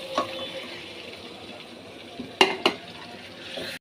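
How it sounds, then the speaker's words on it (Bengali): Chicken stirred and fried in a spice paste in a pan gives a soft, steady sizzle, broken near the end by two sharp utensil clacks against the pot. "মাংসটাকে ঢেলে দেব।"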